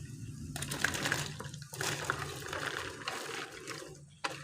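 Cauliflower pieces tip into a pot of boiling water in a home kitchen, giving a loud close watery splash and bubbling surge that comes in bursts.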